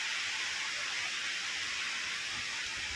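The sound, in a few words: bread gulab jamun frying in lightly heated oil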